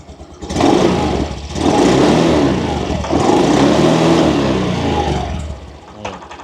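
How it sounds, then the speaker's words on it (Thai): A 2022 Honda Scoopy i Club12 scooter with its original engine and stock exhaust is revved hard several times up close, a loud rising whine that holds, dips briefly and then falls back toward idle. "ผมเดี๋ยวลองเบิ้ลเครื่องกันสักนิดหนึ่ง"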